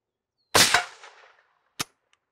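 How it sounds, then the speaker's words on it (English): Gunfire hits an RTS AR600 Level III+ body armor plate in a plate carrier: one loud sharp shot with a short ringing decay, then a second, quicker and quieter report about a second later. "I'm going to shoot it until it falls out of the plate carrier."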